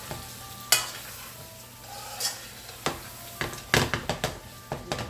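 Bouillon powder is stirred into chicken biryani in a pan, with close spoon scrapes and knocks against the metal over a low sizzle, a few scattered strokes followed by a quicker run.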